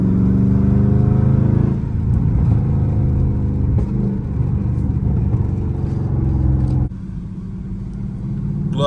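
A Dodge Scat Pack in sport mode drives on a wet road with a loud, close engine rumble and a steady droning cabin hum, then the level drops suddenly near the end.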